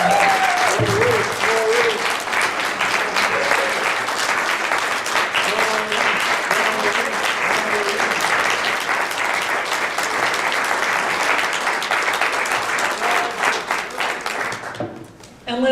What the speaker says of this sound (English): So let's give them a really extra big round of applause.